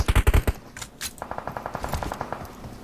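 Gunfire in a battle royale video game: a loud burst of close shots at the start, then a fast, steady string of quieter rapid-fire shots, with no talking.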